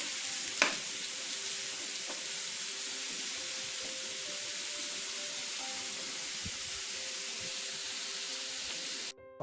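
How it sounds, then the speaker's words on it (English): Mushrooms sizzle steadily in a hot pan for a roasted cauliflower taco filling, a constant close frying hiss with a sharp stir clatter near the start and another soft scrape midway. "Get those mushrooms stirred in there and get them started cooking."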